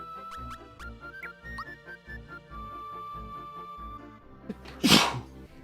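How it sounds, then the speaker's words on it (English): A single loud human sneeze bursts out near the end, close to a microphone, over chiptune music and sound effects from the Super Mario RPG game Super Waluigi RPG. "I just sneezed."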